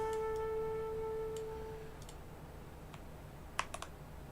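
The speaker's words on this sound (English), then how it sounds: "I pressed the wrong keyboard shortcut." A few sharp key clicks on a computer keyboard as control-key shortcuts are pressed, bunched in a quick cluster near the end after a steady tone fades, with no talking.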